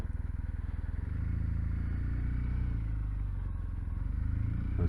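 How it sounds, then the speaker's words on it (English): A Kawasaki W800 motorcycle runs with a steady, loud low engine drone that rises as the bike pulls away, its rumble continuous and close throughout, with no talking. "Going on a ride on my W800."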